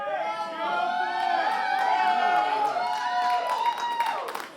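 An esports event crowd cheering and shouting in a large arena, a loud sustained roar of many voices with whoops rising and falling, with commentators talking over it.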